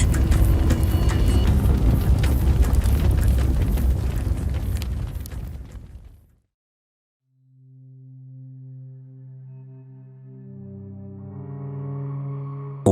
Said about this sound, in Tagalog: Pumalat ang usok at alikabok mula sa sumabog sa ibaba.